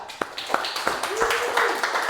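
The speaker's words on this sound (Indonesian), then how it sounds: "Bagi tepuk tangan buat Mbak Alda" Brief classroom clapping for a student during a microteaching lesson on Asmaul Husna, a few scattered claps mixed with a voice speaking over them, close and indoors.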